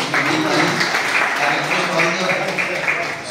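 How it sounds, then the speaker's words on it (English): Students and staff at a college MOU event between Shankarlal Khandelwal College Akola and Edumindz clap together to welcome guests, a continuous crowd applause with a speaking voice mixed in over it. "आपण टाळ्यांनी स्वागत करूया आपल्याकडे"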